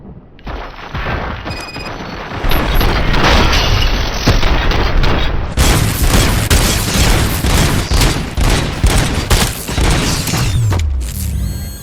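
Heavy gunfire in RoboCop: Rogue City rattles in sustained rapid bursts mixed with booming impacts and mechanical clanks, loud and dense through most of the stretch after a brief quieter start.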